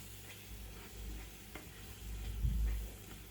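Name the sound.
stirring ground spices in a frying pan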